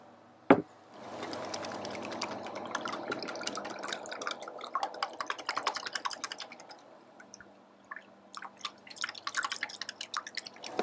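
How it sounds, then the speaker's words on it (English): A whisk clicks and taps quickly against a bowl, mixing pepper and seasonings into a wet batter for fried chicken, a close, light rhythmic rattle that pauses briefly and then resumes. "we're just going to whisk all this together"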